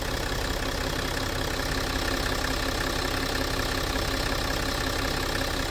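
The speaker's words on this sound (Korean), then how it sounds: "뭐 잡소리나 이런 거 전혀 없이 엔진 소리 상당히 깔끔하고요." Range Rover Sport HSE Dynamic idling with a smooth, steady engine hum, close and continuous with no other noises.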